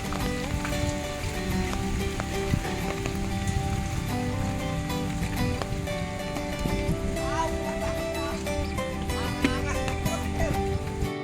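Steady rain hissing on a surface, a dense continuous patter throughout with faint scattered drips and no clear voices.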